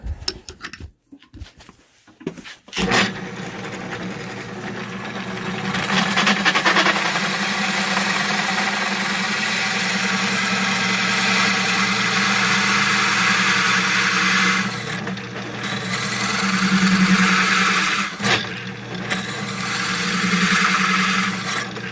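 A foot-pedal power saw cuts wood during a kitchen renovation, starting after a few quiet seconds into a loud, steady whirring grind that briefly dips twice as the blade is lifted from the cut, with no voices.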